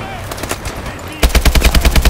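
Machine gun fire in the video game Call of Duty: Advanced Warfare, rapid loud bursts that grow denser and heavier halfway through, with faint shouted voices and battle noise behind.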